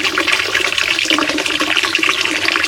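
Water poured onto newly sprouted coconut plants in a backyard home garden, a steady splashing gush lasting a few seconds with no talk over it.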